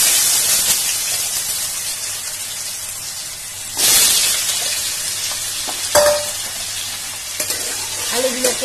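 Potato pieces fry in hot oil with cumin seeds, giving a loud, continuous sizzle broken by bursts of stirring and scraping, including sharp surges around the middle and near the end.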